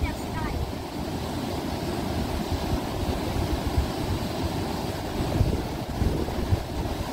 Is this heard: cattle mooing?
no